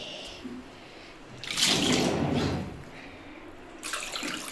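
Water pours into a pot of chicken curry in a loud, close burst of a second or so, followed by quieter handling and a second short splash near the end.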